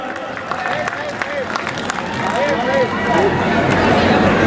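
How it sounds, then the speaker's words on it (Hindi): An audience claps for a named guest at an Ambedkarite gathering in India: a steady, fairly dense wash of applause that grows slightly louder, with crowd voices and chatter mixed in throughout. "भाई तालियां बजा के एक बार"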